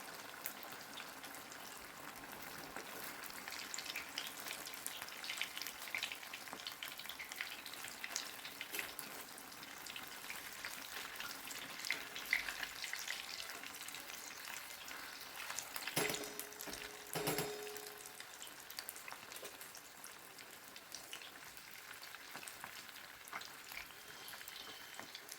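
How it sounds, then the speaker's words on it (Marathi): Stuffed chili fritters (mirchi vada) fry in hot oil over medium heat, giving a steady close crackling sizzle throughout, with a few brief clinks of a utensil in the pan partway through. "मीडियम गॅसवरती की नाही आपल्याला हे मिरचीचे वडे तळून घ्यायचे आहेत"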